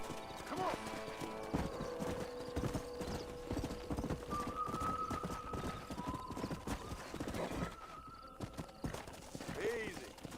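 Horse hooves clip-clop steadily in the Red Dead video game on PS4 as the horse trots toward a bridge, a continuous close rhythm with a brief whinny and voices talking over it.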